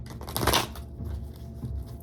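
A quick riffle of playing cards being shuffled close by, a short papery burst followed by softer flicks.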